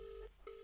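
A telephone ringing on an outgoing call: a steady electronic ring tone broken by one brief gap, heard faintly over a low hum.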